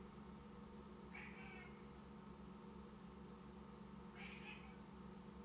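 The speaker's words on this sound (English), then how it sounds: "Oh, the cat is yelling for uppies." A house cat meowing loudly to be picked up, two drawn-out calls a few seconds apart, faint over a steady low background hum.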